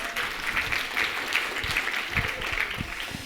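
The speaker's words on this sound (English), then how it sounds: "Round of applause," Audience applause for a volunteer joining a speaker at a talk, a steady patter of many hands at moderate distance, continuous and fairly even throughout.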